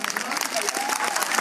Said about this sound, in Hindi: बाजुओं की ताकत आपको दिखानी है तालियों के माध्यम से।